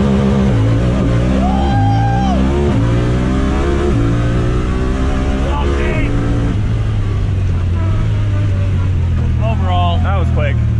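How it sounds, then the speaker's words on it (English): A Honda Talon four-seater UTV engine free-revving toward the limiter, loud and close, with rising and falling harmonic engine tones under ongoing talk from people nearby. "Then you can let off the brake and you can just free rev."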